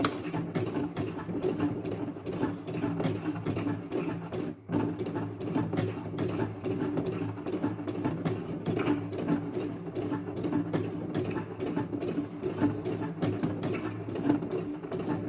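A sewing machine stitches a cuff on trousers or a sweatshirt, running as a steady close whir for the whole stretch with one brief stop partway through.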